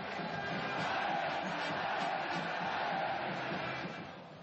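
Bahia football fans fill the stands at Pituaçu stadium, a dense, distant roar of crowd voices and chanting holding steady before easing off slightly at the end.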